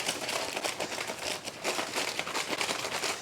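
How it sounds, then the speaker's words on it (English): Aluminium foil crinkles and crumples steadily up close while potatoes are being wrapped, a dense and continuous rustle with no talk over it. "Now there is a correct way to wrap potatoes in foil."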